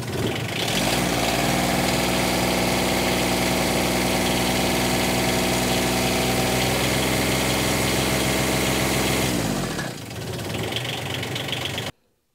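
The engine of a John Deere Gator HPX utility vehicle runs steadily under throttle for about ten seconds, a loud, close mechanical drone with a knocking undertone, then drops in level just before it cuts off.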